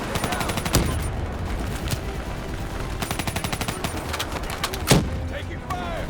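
Rapid automatic gunfire in the Call of Duty: Black Ops 3 video game, long rattling bursts with a couple of heavier booming blasts, while a voice speaks over the shooting.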